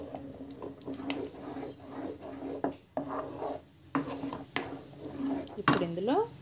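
A utensil scraping and rubbing as ground paste is mixed and fried in a pan, with repeated rasping strokes and clinks at close range, with a voice briefly in the background.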